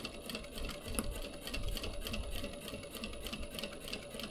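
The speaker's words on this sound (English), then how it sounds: "Some 1 or 2 stitches to top stitch there. And sew along that edge." A sewing machine top stitches along a fabric edge while making a crossbody bag, a quiet rapid mechanical whirring with fine repeated needle clicks, close and continuous.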